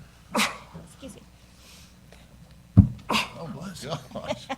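A person sneezes once, sharp and close, during a state Senate health committee hearing, with voices talking before and after the burst.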